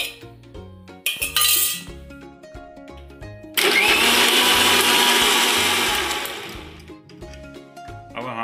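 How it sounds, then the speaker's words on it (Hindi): A mixer grinder blending tamarind pulp roars loudly for about three seconds, starting abruptly and tapering off, with soft clinks and background music before and after. "अब हम इमली के पल्प को मिक्सी के में जार में डालकर इसको अच्छे से"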